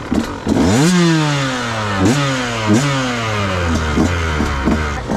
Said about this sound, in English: give it like the engine a little rev